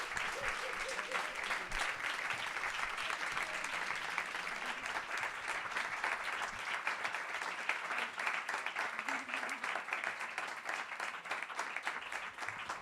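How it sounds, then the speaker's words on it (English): A reading audience breaks into applause, a steady wash of many hands clapping heard at moderate distance and fairly quiet, continuing evenly for several seconds without speech. "let's just give Lesley-Ann a round of applause for her time and energy and love"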